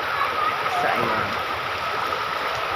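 A river stream flows steadily in Abuyog, Leyte, a broad continuous rushing and gurgling that stays loud and close throughout, with no clear pauses.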